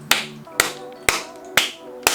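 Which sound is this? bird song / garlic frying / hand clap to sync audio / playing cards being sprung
hand clap to sync audio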